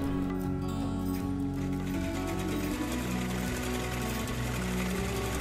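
A half shutter sewing machine stitches a fall onto a saree in a steady, loud mechanical hum with a fast, even stitching pulse that runs continuously.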